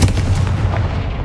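A Confringo fire spell cast in the Hogwarts Legacy video game lands as a loud, booming blast with a rumbling low-end roar that holds steady for just over a second, no voices present.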